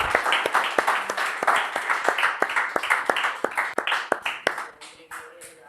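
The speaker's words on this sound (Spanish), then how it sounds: "Vamos a dar un aplauso al Señor" A church congregation claps in a steady, rhythmic beat, loud at first and then thinning out and fading toward the end, with a voice speaking briefly near the close.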